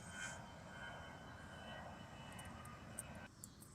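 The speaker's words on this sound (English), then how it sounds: "Oh, here, a plane's coming." An airplane passing overhead outdoors, a faint steady engine drone with a few light clicks and no talk.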